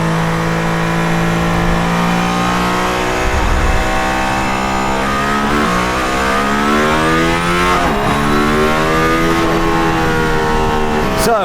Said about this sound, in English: Oh! The pickup is so smooth.